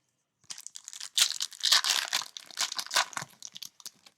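Baseball trading cards being slid into plastic sleeves: close, continuous crinkling and rustling of thin plastic in irregular bursts, with no voices.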